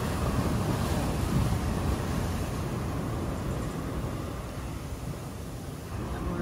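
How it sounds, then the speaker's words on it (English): Big ocean waves surge and roar steadily around a sailboat crossing the Bay of Biscay, with constant wind buffeting the microphone and no voices. "These lovely big waves pushing us in the wind"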